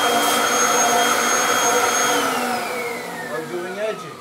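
A Kirby vacuum cleaner runs with its crevice tool attached, a loud, close, high-pitched whine and airflow roar whose pitch slowly drops as the airflow changes, ending with a brief fluctuating rumble.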